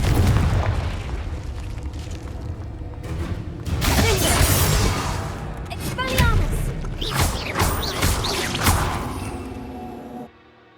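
Several booming blasts from the Confringo fire spell in the video game Hogwarts Legacy burst out at intervals, loud and close, with whooshing bursts between them and a voice speaking at times.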